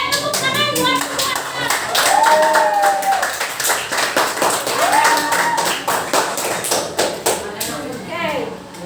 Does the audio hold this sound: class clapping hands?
yes